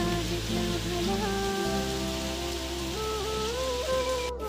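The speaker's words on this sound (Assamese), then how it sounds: "আৰু বৰষুণো দি আছে বহুত" Heavy rain pours steadily at a Shiva temple in Kamrup, Assam, a loud, constant wash of falling water with tonal hums layered underneath.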